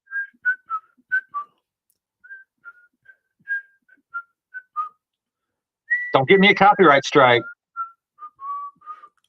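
Short whistled notes come in a loose, halting tune, then a person speaks briefly before the whistling resumes quietly, close and clear.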